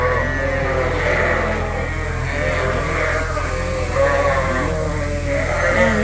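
Sheep and rams on a farm bleat in an overlapping chorus of wavering calls over a steady low rumble, nearby and continuous, with no talking.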